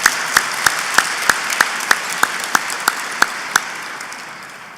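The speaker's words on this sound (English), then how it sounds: "we want to give them a big round of applause" Applause at an industry awards ceremony is heard as a soft, distant wash of clapping, with one nearby person's claps standing out in a steady, evenly spaced rhythm, fading slightly toward the end.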